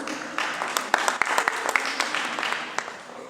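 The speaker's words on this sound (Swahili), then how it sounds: "Tuwapigie makofi mazuri." A church congregation claps together, a close, lively patter of many hands with a few sharper individual claps standing out, steady for a few seconds without a clear rhythm.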